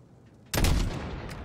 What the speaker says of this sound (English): To stop an APC, you have to shoot the tires